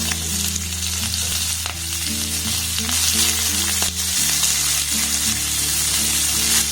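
Onion and green chili frying with cumin seeds in hot oil, a strong close sizzle with some bubbling crackle and a few stirring knocks, no one speaking.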